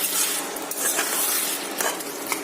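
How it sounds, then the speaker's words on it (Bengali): Tomatoes frying in a pan for a Bengali papad curry, a steady close hiss of sizzling oil with light stirring scrapes and occasional clinks. "টমেটো দিয়ে দিলাম, ওটাও ভাজা ভাজা হয়ে যাবে।"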